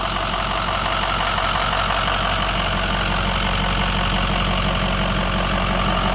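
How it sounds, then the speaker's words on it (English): A 2007 Ford F-450 crane truck's Power Stroke turbo diesel engine idles steadily, its loud, even low rumble and fine rapid clatter running unbroken with no voices. "The motor is a power stroke diesel, turbo diesel."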